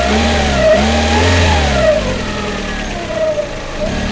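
Engine of a Hyundai Tucson running and revving after repair work, a steady mid-pitched idle rising into a couple of loud revs near the start, then settling back to a smooth run with no talk.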